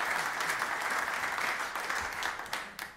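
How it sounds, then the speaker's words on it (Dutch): Audience applause at a live jazz concert in a club, steady, dense clapping from a close crowd that holds evenly for a few seconds and tapers slightly at the end. "Geef hem een extra applaus."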